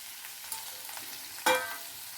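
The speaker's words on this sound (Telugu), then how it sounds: "ఇది కొంచెం సేపు ఏగనివ్వాలి. మెంతికూర కొంచెం ఏగింది." Fresh garden methi (fenugreek) leaves fry softly in a pan for a tomato curry, a low steady sizzle with one brief louder stir or clatter midway, close and without speech.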